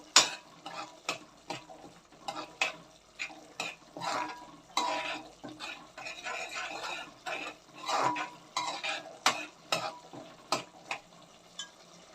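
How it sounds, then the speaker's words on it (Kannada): Tamarind gojju for puliyogare being stirred with jaggery in a pan, a steady run of spoon scrapes and clinks against the metal over a soft sizzle, close and rhythmic with no talk. "ಆ ರೀತಿ ಮಿಕ್ಸ್ ಆಗೋವರೆಗೂ ನೀವು ಇದನ್ನು ಚೆನ್ನಾಗಿ ತಿರುಗಿಸ್ಬೇಕಾಗುತ್ತೆ"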